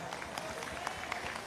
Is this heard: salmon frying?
no